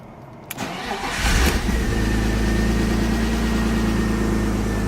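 A BMW E36 engine cranks briefly, catches with a loud rising roar and then settles into a steady, rumbling idle close by, with no talking.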